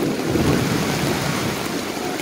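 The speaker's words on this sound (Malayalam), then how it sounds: "മഴയാണ്, ഇടി മഴ" Heavy rain with thunder pours down in a dense, loud, continuous roar at Vengad in a waterlogged market area, with no voices.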